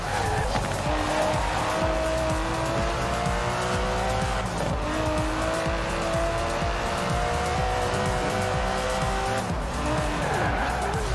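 An Aston Martin DB11 races in Forza Horizon 4, its engine droning loudly and rising through gears, with repeated tyre squeals and skids throughout.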